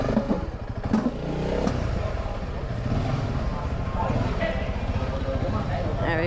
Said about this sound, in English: how many people can say they rode their motorcycle through the restaurant before